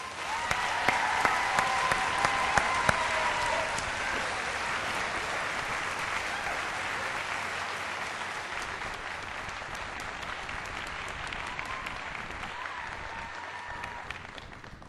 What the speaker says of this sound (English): let's give a big round of applause to the legendary voice of the Razorbacks, Maestro Mike Nail